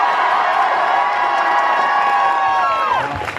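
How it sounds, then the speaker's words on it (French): A live show audience cheering and whooping with some applause, a loud sustained crowd roar with high voices shouting, fading slightly at the close. "big up, applaudissements pour elle,"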